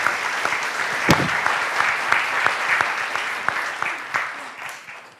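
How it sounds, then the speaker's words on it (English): Applause from an audience at a public panel event on British Columbia's voting system, steady and moderately loud, with a few sharper individual claps standing out from the crowd. "One more round of applause, please."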